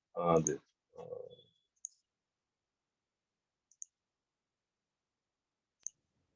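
Sharp computer mouse clicks heard after brief talk at the start, spaced out singly and doubled, crisp and close in an otherwise quiet room.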